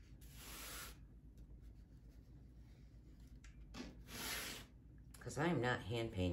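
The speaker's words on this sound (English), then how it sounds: "Spray painting so much quicker." Two bursts of hissing aerosol spray paint, each about a second long, separated by quieter handling noises, followed by a voice speaking.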